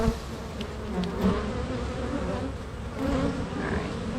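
Honey bees hum and buzz in a dense, steady drone during an open-hive inspection, close and moderately loud, with individual bees whining past and faint handling noises.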